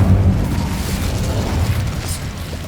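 Incendio fire spell cast in Hogwarts Legacy, a loud, low whooshing burst of flame that roars at the start and fades over a couple of seconds, with no voices.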